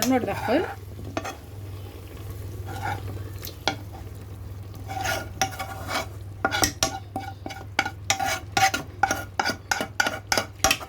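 Green beans and cooked meat stirred in a cooking pot, a low steady sizzle beneath a quickening series of sharp utensil scrapes and clacks against the pot.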